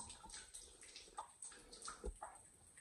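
Water drips from the ceiling of a limestone cave, falling in irregular splashes over a steady running trickle, close by and faint.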